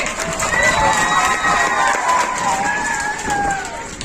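Tenth-grade students at a school farewell ceremony cheer and shout as a lively crowd, with excited young voices rising over a steady, close wash of noise that runs the whole time.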